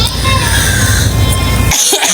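An older man with a long-lasting illness coughs in a loud, harsh burst at close range, which cuts off abruptly near the end.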